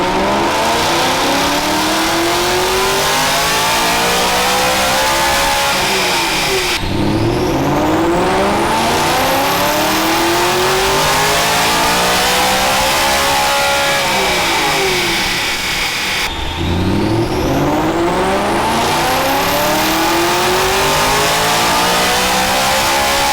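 A BMW E90/E92 M3 V8 with a primary decat and stage 2 tune revs on a dyno. It makes loud, sustained sweeping pulls that climb and fall in long repeated runs, with nobody speaking.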